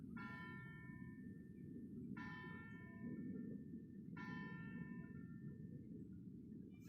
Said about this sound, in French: c'est le son des cloches d'une église